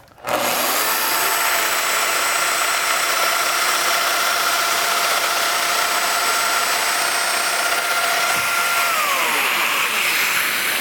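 A power tool cuts a mortise into the stile of a wooden garden gate, starting abruptly and running as a loud, steady, high-pitched whine for about nine seconds before winding down at the end, with no voices.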